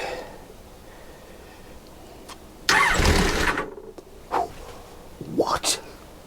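A rebuilt Kawasaki GTR1000 motorcycle engine cranks and catches with a sudden loud burst, then settles into uneven bursts and revs, with people talking around it.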